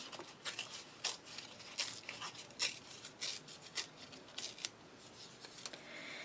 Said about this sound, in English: I'm going to go with the corner to corner tear.